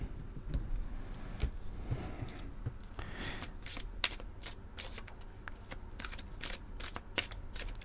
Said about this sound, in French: Elle glisse trop ces cartes.